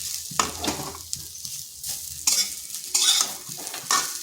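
Kundru (ivy gourd) frying with roasted spices on low heat in a pan, with a soft continuous sizzle broken by several scraping stirs of a spatula, close and moderately loud.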